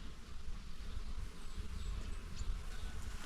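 Honeybees buzz around their hives in a dense, continuous drone, close and steady, with no talk over it.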